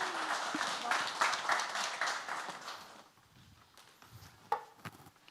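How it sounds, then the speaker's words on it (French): Conference audience applauding a group stepping onstage at a tech event, dense steady clapping for three seconds that thins out into a few scattered claps near the end. "On va les applaudir, s'il vous plaît."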